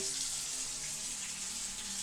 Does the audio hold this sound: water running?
yes